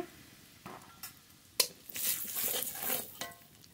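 Whole cumin and ground spices hit hot mustard oil in a Bengali home kitchen, giving short sizzling bursts mixed with clinks of a metal spoon against the pan, close and fairly loud, with no talking.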